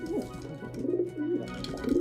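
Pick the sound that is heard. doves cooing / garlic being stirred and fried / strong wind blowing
doves cooing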